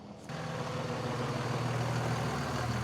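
A Cummins diesel engine, swapped into a Land Rover, idles with a steady, loud low rumble that starts abruptly and then holds an even, continuous drone close by.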